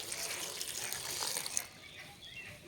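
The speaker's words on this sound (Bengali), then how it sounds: "এবার জল দিয়ে দিতে হবে।" Water poured into a cooking pot of drumstick flowers seasoned with salt and turmeric, a steady splashing pour for about a second and a half before it stops, leaving a faint trickle.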